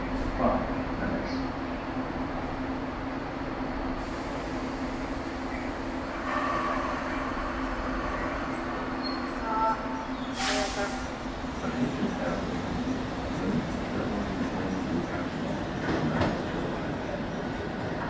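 An MBTA Red Line subway train rides between Braintree and Ashmont, giving a constant rumbling roll with a low steady hum, a few clacks and squeals, and a brief hiss of air partway through.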